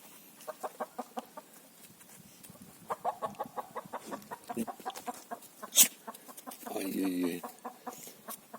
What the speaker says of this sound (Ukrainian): Курку перелякали.